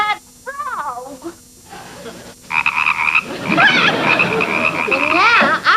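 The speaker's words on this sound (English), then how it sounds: "Now I want you to take off that frog." A frog croaks in repeated rising, warbling calls, loud and close, amid comedic dialogue and background voices that talk over the croaks.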